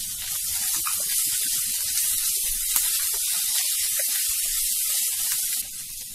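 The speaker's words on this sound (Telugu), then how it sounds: "అల్లం ముక్కలు, కరివేపాకు వేసుకుని వేయించుకోవాలి." Ginger pieces and curry leaves fry in hot oil for a Telugu-style black chickpea tempering, giving a steady, close, dense sizzle with faint crackles that runs unbroken and eases slightly near the end.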